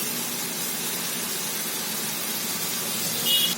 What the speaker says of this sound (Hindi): अब ये मटन के पीसों को हम इस तरह रखेंगे और फ्राई कर लेंगे।